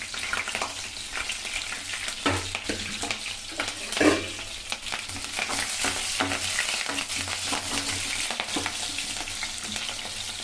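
Chillies dropped into hot oil crackle and sizzle steadily at close range, with occasional scraping stirs and a sharper pop partway through.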